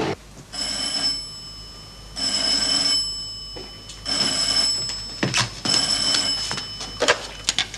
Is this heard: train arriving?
no